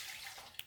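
Pepper juice pours into a blender in a soft, steady liquid trickle that ends with a small splash, faint and close.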